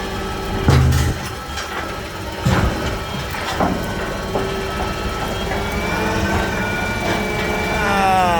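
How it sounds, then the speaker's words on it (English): A tractor engine pushes barley into a trench on a Saskatchewan farm, running steadily at moderate volume with mechanical clanks and a couple of heavier knocks, then rising in pitch near the end. "Push him in with my tractor a little bit."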